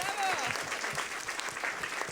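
Continuous audience clapping at a youth meeting, a dense, even patter of many hands with voices faintly beneath it.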